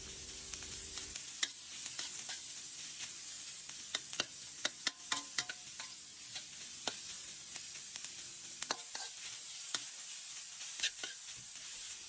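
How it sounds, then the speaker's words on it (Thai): Minced pork is stir-fried in a pan with a steady, hissing sizzle, broken by scattered clicks and scrapes from the spatula, close up and continuous, with no one speaking. "ผัดจนหมูสับสุกเลยนะคะ ผัดไปเรื่อย ๆ จนหมูเป็นสีขาวแล้วก็สุกเลยนะคะ"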